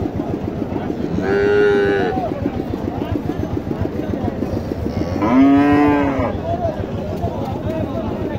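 Shahiwal cattle at a village cattle market in Naogaon; two loud, drawn-out moos ring out close by, separated by a pause, over a murmur of crowd noise.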